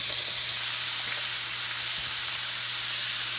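Chopped bell peppers, shallot, onion and finely diced celery sweat in a hot pan with a steady, even sizzle that holds unbroken throughout, over a faint low hum.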